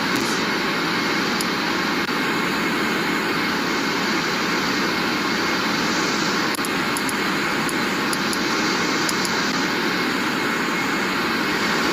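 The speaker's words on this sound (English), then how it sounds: "Airplane." Airliner jet engines of a Lufthansa A319 in the Aerofly flight simulator drone as a constant loud, broad roar with a steady high whine, unchanging throughout, with occasional faint clicks on top.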